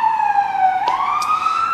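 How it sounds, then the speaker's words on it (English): An emergency siren wails outside in New York City, a single sweeping tone gliding down and back up, loud and steady, with a couple of brief clicks over it and no talk. "if you will kindly ignore that alarm out there, that siren"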